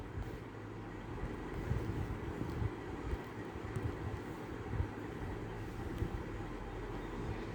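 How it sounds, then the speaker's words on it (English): A steady, rumbling wash of road traffic, with cars and trucks passing in a continuous low drone and no voices. "So here the sound of the traffic or the car or the truck"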